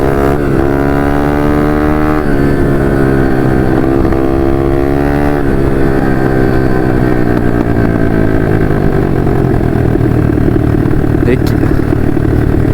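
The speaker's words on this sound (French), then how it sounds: "Le bruit des 4 temps qui sont magnifiques, qui ronronnent dans toutes les côtes de Meuse." A four-stroke 150 RXF motorcycle engine riding through hilly countryside in the Meuse, a steady loud drone that rises and falls in pitch with throttle and gear changes, close and continuous throughout.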